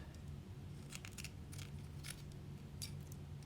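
Scissors snip decorative trim off a double-pocket ephemera pouch, giving several quiet, close, crisp cuts in an uneven rhythm over a low steady hum, with no talk.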